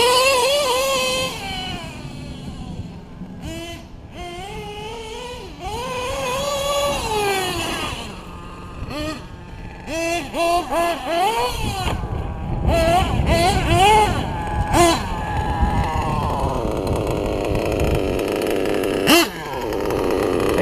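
A nitro RC car engine running on Bones Brew fuel, a loud, close, buzzy two-stroke drone that idles and then rises and falls in short revving swells.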